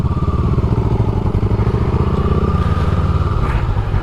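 A Honda Grom motorcycle engine rumbles loudly and close with a rapid, choppy exhaust beat, holding steady as the bike rides past, with a faint rattle on top.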